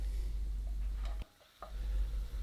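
Close, loud sizzling as white wine deglazes a hot pan for roasted rack of lamb, hissing steadily, briefly dropping away for a moment, then surging back and bubbling on.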